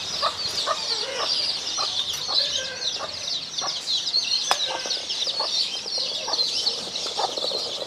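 Chickens and bantam chicks cluck in short, repeated bursts as they are fed on a Vietnamese farm, with other fowl and a steady wash of birdsong around them.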